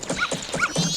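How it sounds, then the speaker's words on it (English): Dog barking in the N64 game Zelda: Majora's Mask, two short yelping calls about half a second apart over steady game background sound, fairly close and moderately loud. "Damn dog."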